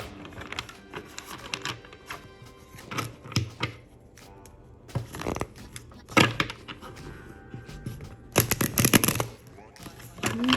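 Tarot cards are shuffled in quick riffling bursts and snaps, with brief pauses between rounds, close by and fairly loud.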